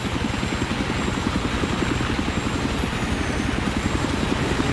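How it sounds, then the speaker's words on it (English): A loud, close video-game enemy helicopter, its rotor beating in a fast, even rhythm under a continuous engine roar, held steady throughout with no voices. "Enemy helicopter spotted"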